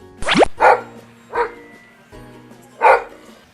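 Rescued shelter dogs bark in a few sharp, separated bursts, one yelping high then several loud woofs spaced about a second apart, close by with no talk over them.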